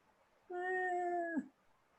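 A single drawn-out meow, voiced by a performer imitating a cat during an improv comedy show, lasting about a second with a brief upward squeak at the end, fairly close.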